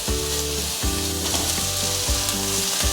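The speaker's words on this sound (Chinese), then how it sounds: "继续翻炒" Cabbage and shiitake mushroom being stir-fried in a wok, loud close sizzling with rhythmic tossing and stirring, mixed with background music.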